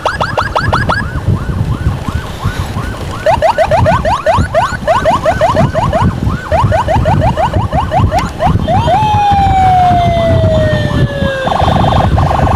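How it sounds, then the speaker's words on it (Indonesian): An ambulance siren wails and yelps steadily through city traffic in Samarinda, Indonesia, on the approach to a hospital. The loud, cycling tones run almost continuously over the engine and road rumble, with one long falling sweep near the end. "dengar sirine."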